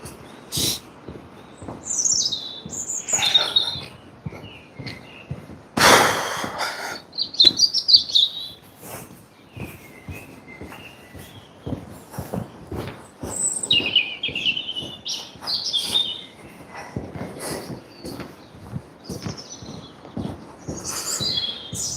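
Birds sing outdoors, with repeated chirps and tweeting phrases coming at irregular moments over about twenty seconds, clear and moderately close, over scattered clicks and rustling.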